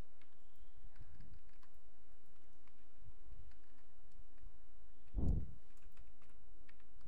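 Computer keyboard typing during an HTML typing work demo, a steady run of soft, close key clicks at low level with one louder thump near the end, no talking.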